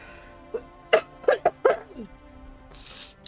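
A person coughs in a short burst of about four or five close, loud hacks, with a faint hiss trailing afterward.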